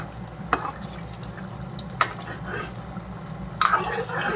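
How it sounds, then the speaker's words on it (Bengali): Egg korma with spices being stirred in a pan: a few scattered scrapes and clinks of a spoon over a low sizzling bed, intermittent and close. "এগুলো দিয়ে এখন একটু ভালো করে একটু নাড়িয়ে চাড়িয়ে দেবো।"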